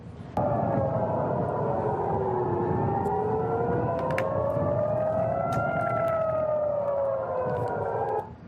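Air raid sirens in Jerusalem during Iranian missile strikes wail continuously, several overlapping tones rising and falling slowly, sounding from a distance with faint clatter in the background.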